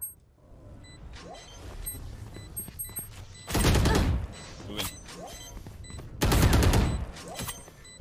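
Two loud gunshot bursts in the tactical shooter Valorant, spaced a few seconds apart, each a short crackling volley over faint game ambience.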